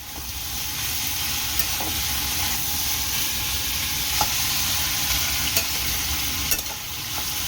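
Bitter gourd and potato slices fry in a pan with a steady, dense sizzle, broken by occasional soft clicks of stirring, close and continuous.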